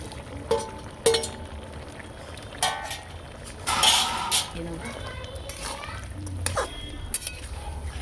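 Live pond puti fish and okra go into a pot with boiled potatoes and are stirred, giving scattered metal clinks, scrapes and a brief splashy sizzle at close range, with talk in the background.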